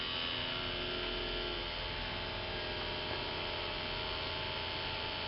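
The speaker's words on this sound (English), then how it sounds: "You can hear the motor" Battery-powered electric motor running steadily, a constant low hum and whine that holds unchanged from start to finish, close and alone.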